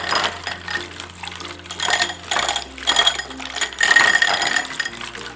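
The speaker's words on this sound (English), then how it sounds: "It's a hand mixer, so it's not electric and it works really cool." A non-electric ZenPro hand mixer whisks eggs or pudding in a bowl, giving a steady, fairly loud rattling whir of spinning beaters with rhythmic clicking gear pulses throughout, no voices.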